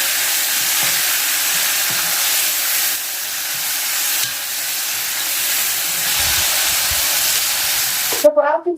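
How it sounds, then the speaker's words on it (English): Beans fry in hot cooking oil with a loud, continuous hissing sizzle that holds steady throughout, and a voice begins speaking right at the end. "we fry them in some cooking oil, and then we add onions"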